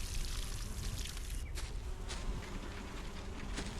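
Water pouring steadily from a watering can onto plants in the cozy survival game Solarpunk, a continuous splashing trickle that runs unbroken for the whole stretch, with no speech over it.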